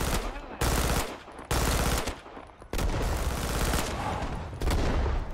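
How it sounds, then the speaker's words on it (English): Submachine gun fire in the jungle shooter Rising Storm 2, loud close bursts of rapid automatic shots in several separate volleys with short pauses between them. "The submachine gun is not accurate at longer ranges"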